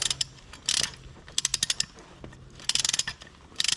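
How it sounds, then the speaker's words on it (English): A ratchet wrench spins the cylinder head bolts down on a John Deere 4840 tractor engine during an overhaul, in quick bursts of rapid clicking with pauses between, close and crisp, with no talking. "I'm just getting these bolts spun down to the shoulders, bottom out."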